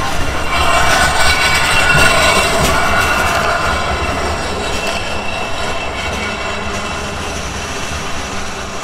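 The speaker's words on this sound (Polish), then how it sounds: "Tramwaj, proszę." A tram rolls past on rails with a steady, loud rumble and rattling wheel noise, fading slightly as it moves away.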